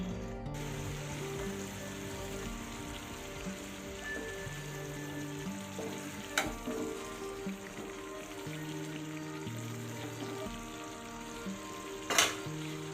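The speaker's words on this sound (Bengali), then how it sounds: "এভাবে জল দিয়ে দিয়ে পুরো মশলাটাকে ধীরে ধীরে কষাতে হবে" Masala for Rangpur-style dim telani egg curry fries gently in a pan, a continuous soft sizzle with light stirring scrapes and a couple of sharp ticks near the middle and end, without any talking.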